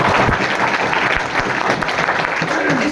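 Steady audience applause from a gathered crowd at a leadership event, a dense continuous patter of many hands, loud and close throughout with no talk over it.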